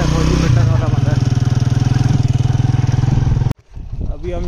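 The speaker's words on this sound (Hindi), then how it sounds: "बाइक जा रही है वापस दोपहर को लेने के लिए।" A motorcycle engine runs loud and close with a steady rapid putter, then cuts away abruptly as the bike leaves, fading to quieter outdoor background near a cricket ground.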